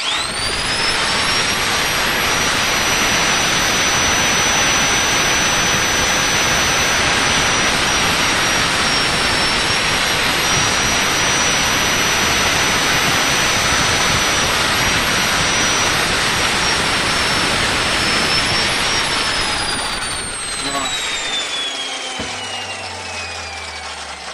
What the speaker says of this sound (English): I got my wee grinder here. I'll mark it and see how we get on